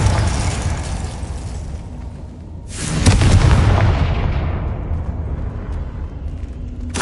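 A Confringo fire spell from the Hogwarts Legacy video game bursts with a loud booming blast that swells and rolls out over several seconds, following a quieter stretch of rumble.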